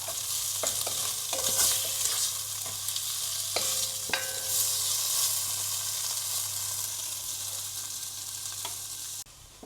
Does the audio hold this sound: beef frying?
yes